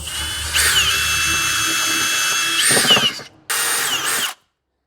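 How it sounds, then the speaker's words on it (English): A power drill with a 9/32 bit whines steadily through a metal clutch backing plate on a Yamaha motorcycle, pausing briefly near the end before a final short burst, then stopping. Loud and close, no talking. "we need to drill it out, and a 9/32 bit does the job"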